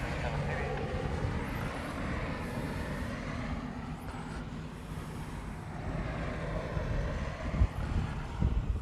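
A Singapore Airlines heavy jet lands on runway 8 left at Honolulu during reverse operations, giving a steady, broad engine roar and rumble that lasts throughout, with voices heard over it.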